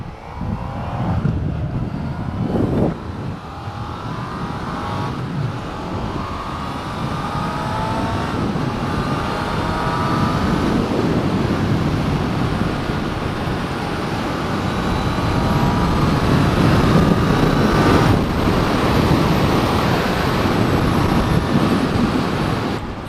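A Honda CB1000R motorcycle, rated at 104 pound-feet of torque at 8,500 RPM, rides along an open road with a continuous engine drone, heavy rushing wind buffeting the microphone and a rising, swelling roar.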